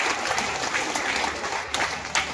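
Loud, continuous applause from an audience after an inspirational speech by a bishop, with a dense crackle of clapping and a few sharper bursts, sustained throughout.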